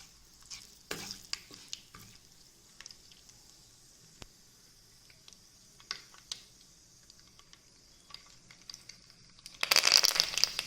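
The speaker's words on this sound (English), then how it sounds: "Mustard seeds, let it splatter." Mustard seeds splutter in hot oil seasoned with hing, giving sparse scattered pops and crackles that break into a dense, loud burst of sizzling near the end.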